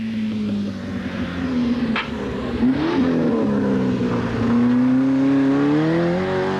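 A Citroën GSI rally car drives a stage at the 1989 Rallye de Metz, its engine droning loud and close, pitch dipping then climbing steadily as it accelerates through the gears.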